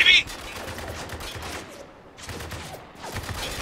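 Gunfire in Spec Ops: The Line crackles as a steady wash of distant rifle shots. It sits under a busy combat mix without any clear individual bursts, and no one speaks.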